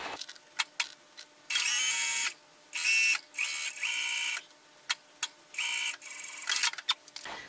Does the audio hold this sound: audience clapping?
no